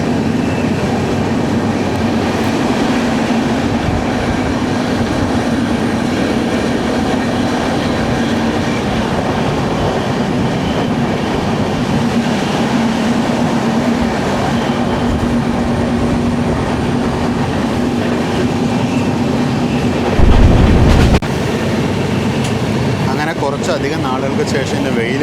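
An express train runs on rails between Thiruvananthapuram and Shoranur: a loud, steady rumble with wheel clatter from onboard, and a brief heavier burst near the end.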